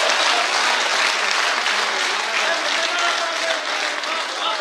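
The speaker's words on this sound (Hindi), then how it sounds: "एक बार जोरदार तालियों से इस्तकबाल किया जाए अब्बास कमर का।" An audience at a shayari poetry recital gives a poet a loud, sustained round of applause, dense clapping holding steady throughout before tapering slightly at the end.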